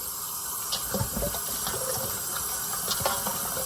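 Steady stream of lukewarm tap water runs over raw ribs in a kitchen sink, a constant close hiss broken by brief splashes and clatter as the meat is rinsed.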